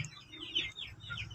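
A small native hen clucks close by in a short burst of rhythmic, throaty clucks over a low background hum.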